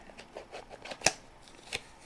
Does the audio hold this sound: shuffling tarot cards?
yes